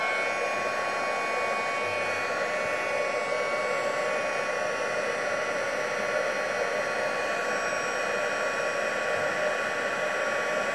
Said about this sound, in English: if you guys don't want to hear my heat gun, just turn the volume down a little bit